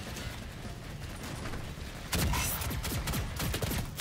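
Rapid gunfire from a Doom 4 team deathmatch multiplayer game, a dense burst of shots and impacts that grows louder midway and continues as a close, busy fusillade.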